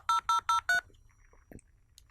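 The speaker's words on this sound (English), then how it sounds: "if you don't know what the sound of dial-up is" A telephone line dials out at the start of a dial-up modem connection: four loud, evenly spaced touch-tone beeps, followed by a brief click and quiet line noise.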